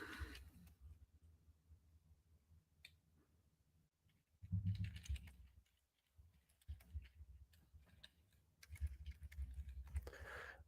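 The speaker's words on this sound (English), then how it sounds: "My typing's off right now." Typing on a computer keyboard comes in faint, irregular bursts of soft clicks with quiet pauses between, growing a little busier and louder toward the end, with no talking.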